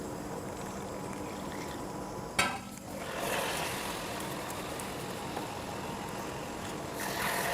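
Oil in a hot wok hisses and sizzles, a soft steady crackle with a sharp burst partway through when more goes in, then continuing evenly without talk.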